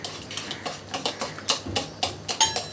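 Oil being whisked into melted sugar in a bowl for orange cake batter, a quick rhythmic series of clinking taps from a utensil against the bowl, close and alone.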